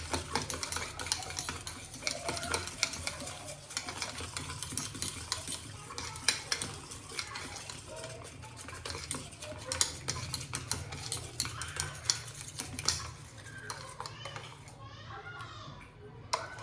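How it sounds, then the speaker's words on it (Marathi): Batter is whisked briskly in a bowl until smooth, making a continuous, close, rapid clatter and scraping of the whisk against the bowl that runs steadily throughout. "चांगलं फेटून घ्यायचं, गोळे नाही राहिला पाहिजे"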